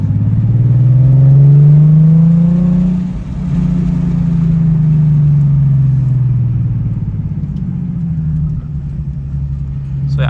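A Nissan 370Z Nismo with a VQ engine and a muffler delete revs loudly up close, its deep raspy note climbing and falling through a couple of throttle blips before settling.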